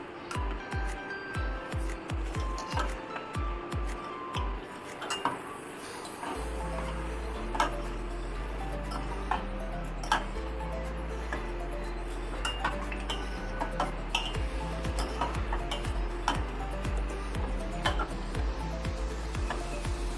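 A utensil stirs milk with milk powder in a pot for homemade cassata ice cream, producing repeated close metallic clinks and scrapes against the pot over a low steady hum.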